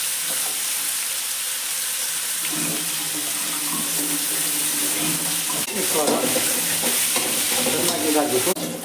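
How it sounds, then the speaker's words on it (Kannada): Capsicum and tomato sizzle in oil in a pan for chilli chicken, stirred with scraping sounds that grow busier toward the end; close and continuous, with no talk. "ಕ್ಯಾಪ್ಸಿಕಮ್ ಟೊಮೆಟೊ ಎರಡನ್ನು ಒಮ್ಮೆಲೆ ಆ್ಯಡ್ ಮಾಡುವ"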